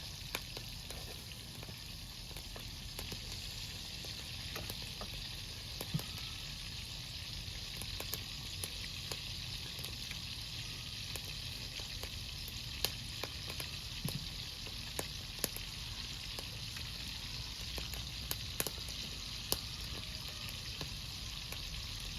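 Pork balls fry in hot oil with a steady, dense sizzle and scattered pops and crackles, close and continuous throughout, with no talking over it.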